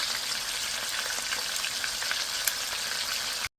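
Koi fish frying in oil in a pan, a loud, dense, continuous crackling sizzle that holds steady for a few seconds before cutting off abruptly.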